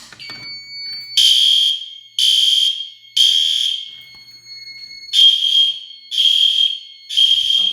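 Building fire alarm system sounding during a test: a loud, shrill electronic horn pattern of repeated harsh blasts, about a second each with short gaps, over a steady high-pitched tone, with no talking.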